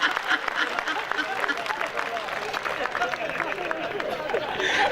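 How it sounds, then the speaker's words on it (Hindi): An audience at a comedy show claps in a quick, uneven patter that rises and falls, with people chattering and talking over the applause. "सारे लोग ताली बजाओ"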